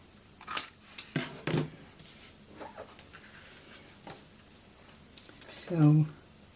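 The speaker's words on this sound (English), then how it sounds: "These little strips that hang off, we can just cut them right off." Scissors snip strips of paper in a few quick, close cuts, with voices talking at a children's family art workshop on Matisse-style cut-paper collage.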